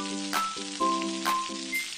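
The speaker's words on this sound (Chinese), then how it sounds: "将腌好个腩肉按男左女右摆上去，用中细火慢慢煎" Marinated pork belly sizzles steadily as it fries in oil in a pan over medium-low heat, a constant hiss under sustained musical tones.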